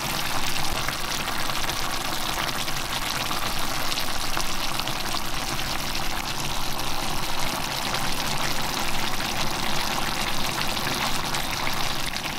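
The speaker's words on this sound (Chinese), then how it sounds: "我们把红葱头加进来， 盖上盖再焖2分钟" Pork belly and squid with shallots braise in a covered pan, producing a constant, moderately loud bubbling sizzle that holds evenly throughout without any talking.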